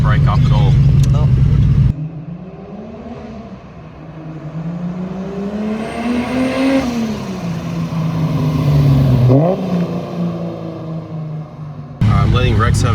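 A boosted car at 5 PSI with zero timing pulls hard under acceleration, its engine note climbing and falling in pitch over several seconds, loud and close from inside the cabin, with talk before and after.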